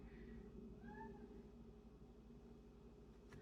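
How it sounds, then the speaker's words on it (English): A domestic cat meows a couple of times, short rising calls faint over a steady low hum in a quiet indoor room. "My dad's cat is really active right now. She's talking."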